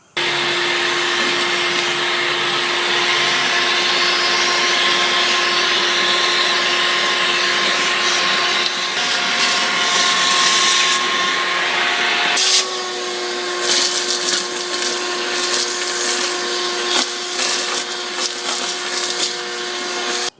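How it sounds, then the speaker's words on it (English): A loud, steady vacuum cleaner drones with a constant whine while cleaning out an outdoor AC condenser, its pitch shifting slightly partway through as the nozzle moves, with scraping and rattling debris. "I'm going to vacuum all this out and do the sides"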